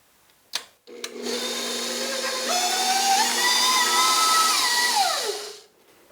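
An electric mixer whirs up to speed, mixes buttercream icing with a steady, rising whine, then winds down, preceded by a couple of sharp knocks.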